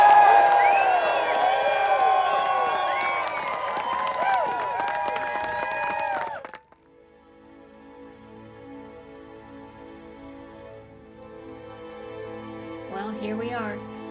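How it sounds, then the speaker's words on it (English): A crowd on the Rubicon Trail cheers and whoops loudly for the trail crew, with overlapping shouts and voices. The cheering cuts off abruptly into quieter ambience, where voices resume near the end. "give them all a really loud cheer"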